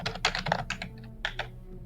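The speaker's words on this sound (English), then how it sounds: "is typing" Computer keyboard keys are tapped in quick, uneven bursts of clicks, close and clear, with a short pause partway through and no voices.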